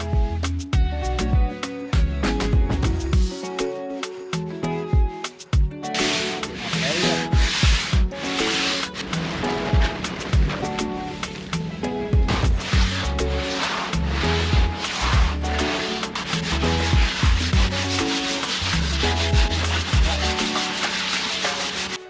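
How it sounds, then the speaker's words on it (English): Continuous rhythmic rubbing and scraping of sanding on a hurricane-damaged catamaran hull, close and busy, with overlapping strokes throughout. "we start sanding together again."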